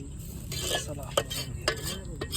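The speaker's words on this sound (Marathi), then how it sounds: "बघा मसाल्याला खतरनाक तडी सुटले" Homemade masala gravy for a crab curry sizzles in a pan, a steady hiss with a few sharp clinks and scraping stirs, close and moderately loud, with no talking.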